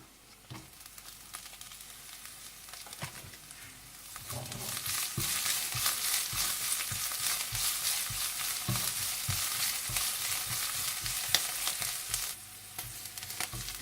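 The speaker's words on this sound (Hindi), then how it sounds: "और थोड़ा सा भून लें।" Green chillies and whole red chillies fry in hot oil, a steady bright sizzle that jumps louder a few seconds in as they hit the pan, with soft stirring clicks and no talk.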